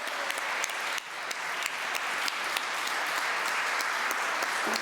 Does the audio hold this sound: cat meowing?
no